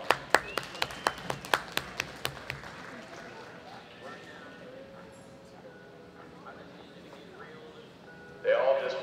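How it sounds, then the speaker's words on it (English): An audience at a leadline horse show claps in a short burst of about a dozen sharp, evenly spaced claps, then fades to a quiet room hum, with a louder rustle at the end. "Give them a big round of applause."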